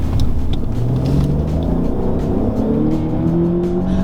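A Mercedes-Benz S500e plug-in hybrid 3.0 engine steadily rises in pitch as it accelerates, a continuous loud droning hum with road rumble underneath, no voices.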